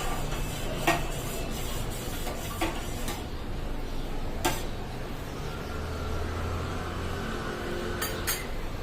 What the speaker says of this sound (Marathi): तिथं आपली साखर पूर्ण विरघळलेली आहे पण आपण सतत हलवत राहायचं